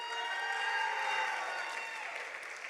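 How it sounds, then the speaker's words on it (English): A round of applause at a Palm Springs school board meeting for the whole team: dense, sustained clapping from the room that holds steady, then eases slightly toward the end. "that was a special round of applause for the entire team"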